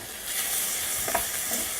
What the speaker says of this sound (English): our bacon, you can probably hear the sizzle